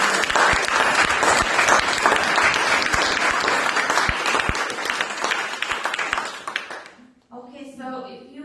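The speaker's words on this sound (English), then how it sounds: "Please give a big round of applause again now to everyone." A conference audience gives sustained, lively applause with crisp individual claps audible in the mix for about seven seconds, then it cuts off abruptly and a voice begins speaking.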